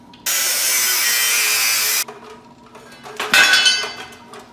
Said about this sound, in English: Apparently I gotta cut that weld too.